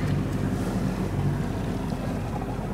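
A sailboat motoring under engine power on a sunny day in the Norwegian archipelago near Kristiansand, making a steady low engine drone mixed with wind and water rush, continuous and fairly loud, with no talking.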